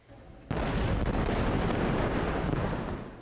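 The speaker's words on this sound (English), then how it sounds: "An explosion in Nuseirat, central Gaza, sends people running for safety." An Israeli airstrike explosion in Nuseirat, central Gaza, bursts in suddenly and loud after a quiet start, then a sustained heavy roar and rumble carries on and slowly eases.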